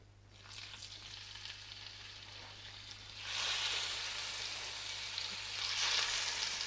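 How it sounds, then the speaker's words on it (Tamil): Pieces of chicken pudina kebab start frying in shallow hot oil in a stoneware pan, a soft steady sizzle that swells louder partway through, close and crackling with no talking. "இப்போ வந்து எண்ணெய் காஞ்சிடுச்சு, நம்ம சிக்கன் வந்து வைக்கலாம்"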